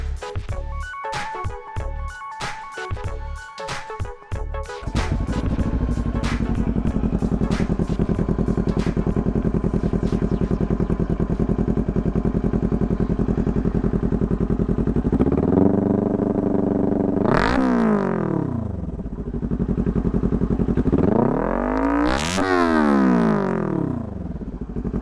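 Kawasaki Ninja 400 motorcycle with a Coffman's Shorty slip-on exhaust: rapid clattering start-up, then a loud, steady close-range idle, followed by two sharp revs that rise and fall back to idle.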